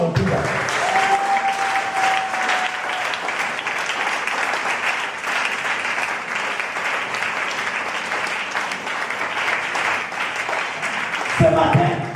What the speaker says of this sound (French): il faut acclamer